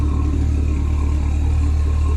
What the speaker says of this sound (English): Oh, that exhaust sounds so good.